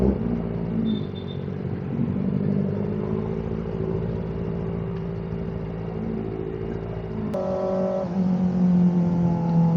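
A motorcycle's exhaust rumbles low and steady while riding, sounding muffled and moderately quiet, with a brief change in tone near the end and no talking.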